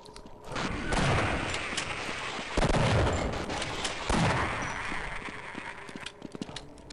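Several loud, close gunshots fired in the video game Half-Life, the sharp blasts spread over a few seconds with no one speaking over them.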